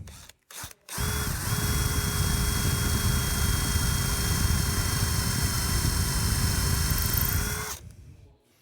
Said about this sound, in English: We just go down and drill the holes.